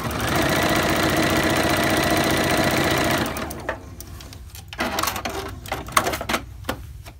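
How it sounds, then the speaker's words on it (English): A sewing machine runs steadily for about three seconds, stitching a fabric zipper pouch closed, then stops and is followed by scattered handling clicks and taps up close. "I machine stitch mine closed, but you can hand stitch it closed"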